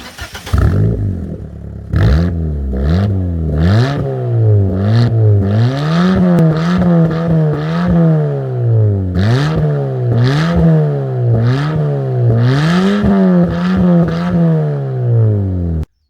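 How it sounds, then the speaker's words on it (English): A Fiat 500 Pop with a new exhaust revs repeatedly, the engine note rising and dropping in a rhythmic series of throaty blips, loud and close. "you can hear the new exhaust"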